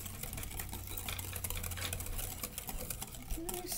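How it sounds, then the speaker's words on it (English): A dirt cake mixture is whisked by hand in a bowl, giving a steady, continuous scraping and patter of stirring at close range, with a low hum underneath throughout. "we're going to use a whisk, but you can also use a beater, an electric beater. I'm going to stir it up really good."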